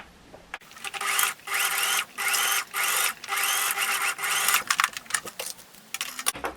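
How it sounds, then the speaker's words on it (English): A sewing machine runs a zigzag stitch over a pipe cleaner on a mask, whirring in several steady bursts of about a second each with short pauses between them, close and fairly loud, with no talking. "for the stitch I'm gonna give this zigzag stitch right over the pipe cleaner"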